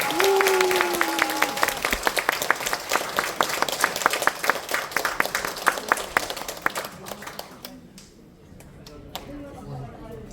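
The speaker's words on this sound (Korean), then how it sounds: "큰 박수로 환영해 주시기 바랍니다" An audience at a nitric oxide academic seminar applauds to welcome a professor, crisp individual claps spreading into a lively round that thins and fades near the end, with a voice heard early on.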